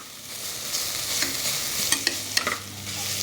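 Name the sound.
onions and tomatoes sautéing in a pan for mutton kurma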